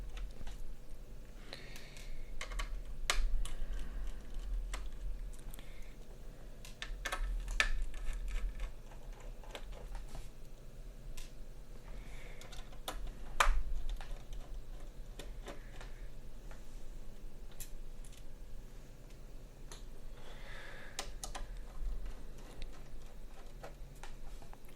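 Small screws are worked loose from the front side of an ASUS Strix GTX 980Ti graphics card, soft intermittent ticks and faint clicks of a screwdriver over a low background hum.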